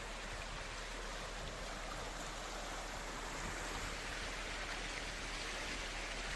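Heavy rain in southern Taiwan, a dense, steady hiss of downpour with no breaks, even and continuous throughout, no one speaking.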